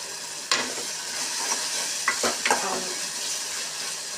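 Dry prawn thokku is stirred in a hot pan, a continuous soft sizzle broken by a few close scrapes and knocks of the spoon against the pan, with no talk.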